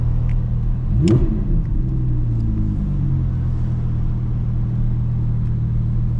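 A dual-clutch supercar held in neutral gives one sharp rev that swells and falls back, then settles into a steady, loud, close idle rumble with no talk.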